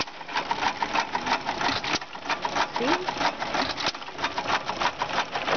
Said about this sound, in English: gas engine thingy making ice cream